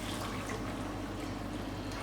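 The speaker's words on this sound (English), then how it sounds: "use a bit of warm water and use the same amount of water as you had in the tin" Warm water is poured into a pot of braising oxtail, a steady, close, even wash of liquid that runs unbroken for about two seconds with no talking.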